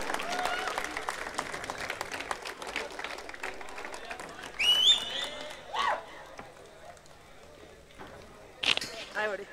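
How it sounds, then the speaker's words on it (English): Audience applause at an esports prize ceremony greets the second-place CSGO team, a moderate scattered clapping that swells briefly with louder bursts and sits under ongoing talk from the presenter. "Give a big round of applause for CSGO,"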